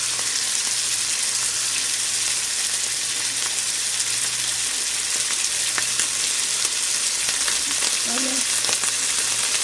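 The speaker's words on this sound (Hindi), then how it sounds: "साथ में ही हम जिंजर गार्लिक पेस्ट डाल देंगे।" Ginger garlic paste sizzles steadily in hot oil for a chickpea pulao, a loud, even hiss running throughout with a few faint pops and crackles near the end.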